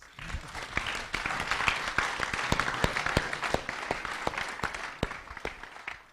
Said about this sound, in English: Well then, thank you, Michelle. A small applause.